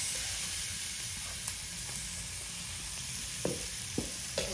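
Meat fat oil added to a pan of beef cooking with raw jackfruit sizzles with a steady, close frying hiss, broken by a few sharp spoon clinks and scrapes near the end.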